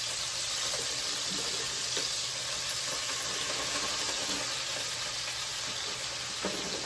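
Brussels sprouts fry in grease over medium-low heat, giving a dense, steady sizzle and crackle with a few faint pops, close and continuous.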